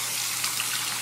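Room-temperature tap water runs steadily into a container, a soft continuous splashing hiss over a brief moment.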